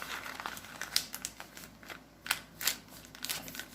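Wrapper being folded around Puerto Rican yuca pasteles, giving soft crinkling and rustling with a few sharper crackles at intervals, close and fairly quiet, with no talking.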